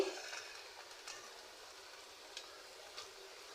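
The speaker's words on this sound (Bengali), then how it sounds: "এই দেখেন আমার সবগুলি সিঙ্গারা ভাজা হয়ে গেছে" Samosas frying in hot oil over a low flame, a faint steady sizzle with a few soft taps or clinks of a utensil, close but quiet and without talking.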